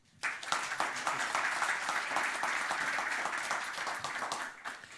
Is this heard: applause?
yes